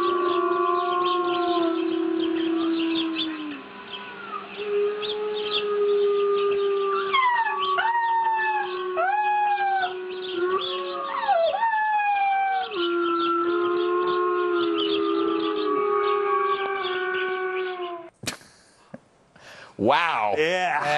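Wolf pup howling in long wavering calls, loud and close, sliding up and down in pitch over a steady tone, with a brief burst of other noise near the end.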